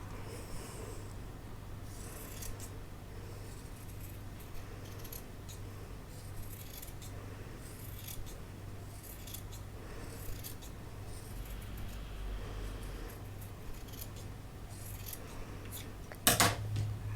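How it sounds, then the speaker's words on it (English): Scissors trimming foam 3/8 inch in along a straight edge while sewing a bag: steady, close snipping and crunching cuts repeating throughout, soft and quiet over low hum, with a brief louder clatter at the end. "we're going to trim all the way around, evenly straight edge, 3/8 of an inch in, and we're just going to cut away"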